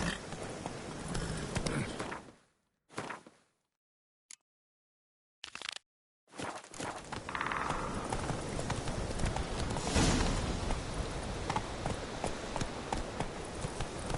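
Galloping horse hooves in a PS4 video game, steady rapid clip-clop running loud for most of the stretch, broken by a few seconds of silence in the middle before the drumming resumes.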